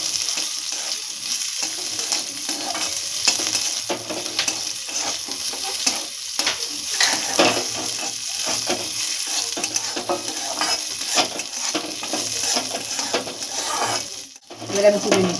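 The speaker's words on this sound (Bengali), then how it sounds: "আমন্ড বাদাম, কিশমিশ আর হলো কাজু বাদাম একটু ভেজে" Almonds, raisins and cashews fry in a pan for a sweet vermicelli payesh. A constant bright sizzle runs throughout, broken by frequent scraping and stirring strokes and a brief clatter near the end.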